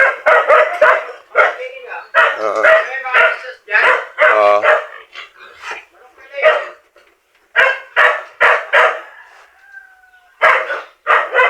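A white dog on a small farm barks repeatedly in irregular bursts, close and loud, with short pauses between barks.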